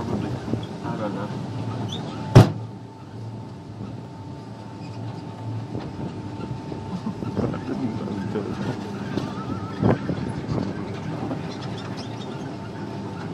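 The Wacky Races amusement ride at Flamingo Land rumbles along on its track in a steady, moderate drone with wind buffeting the microphone, one sharp clunk early and a few softer knocks, while people talk over it.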